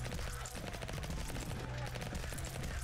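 Dense, continuous gunfire from twin guns in the video game Vampire Hunters, a steady rapid rattle of shots that runs at a constant level for the whole stretch, with game music and effects underneath.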